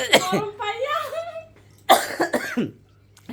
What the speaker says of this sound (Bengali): আমার হলো কাশি শুরু উঠে আছে ভিডিও করার সময় আমার কাশিটা বেশি হয়